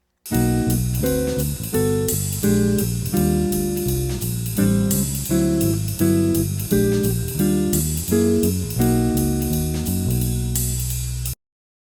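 Jazz guitar comping through chord changes, guide-tone voicings with an added higher string on each chord, in a steady rhythm of struck and sustained chords, close and full, with no talking.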